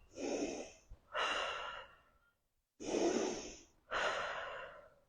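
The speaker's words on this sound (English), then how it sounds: "and breathe." Slow, deep breaths drawn in and let out during a head tension release exercise: four long airy inhales and exhales, close and fairly quiet, with a short pause in the middle.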